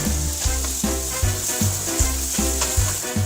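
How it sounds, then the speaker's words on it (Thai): Garlic, plant-based meat, broccoli and carrot stir-fry in a hot pan with a steady, close, bright sizzle, and a rhythmic low musical pulse runs beneath it throughout. "เจียวกระเทียมจนเหลืองแล้วก็ใส่เนื้อเทียมลงไปเลยค่ะ ามด้วยบล็อกโครี่แล้วก็แครอทที่เราเตรียมไว้ค่ะ"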